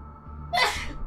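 A single sharp, close sneeze in a quiet room with faint background hum, brief and loud, with no talk around it.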